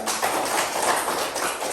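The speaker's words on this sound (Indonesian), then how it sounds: "silakan tepuk tangan" A classroom of students claps their hands together in a dense, steady burst of applause, close and fairly loud, with no talking over it.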